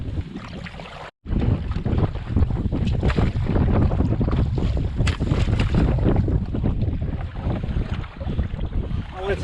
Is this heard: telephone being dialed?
no